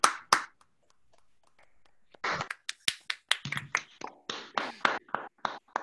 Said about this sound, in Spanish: darle un agradecimiento a Inés en forma de un aplauso